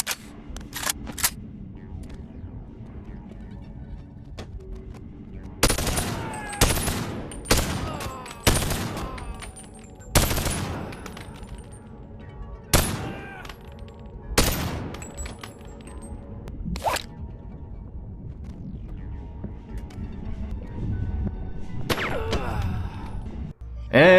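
A new gun fires in the BoneLab video game: a series of sharp, loud gunshots, some single and some in quick bursts, separated by short pauses, over a quiet background.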